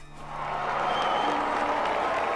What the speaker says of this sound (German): Oh, ich bekomme sogar Applaus.